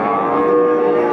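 Cattle at the Pasar Pon Pati livestock market in Indonesia give a single sustained, loud moo lasting about a second, close by and clear.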